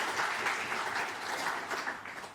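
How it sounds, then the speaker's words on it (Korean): Applause at a Korean church Sunday service welcoming a visiting deacon: a steady, soft wash of congregation clapping that carries through the whole moment, with no speech over it. "예, 박수로 환영합니다."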